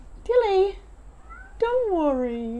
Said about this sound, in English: Sometimes she sort of has a little sleep and wakes up meowing.